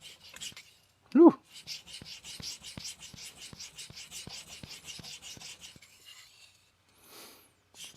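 An Aogami 2 steel knife stroked over a brand-new King resin-bonded diamond stone, making a series of rhythmic raspy rubbing strokes. A brief voice exclamation comes near the start.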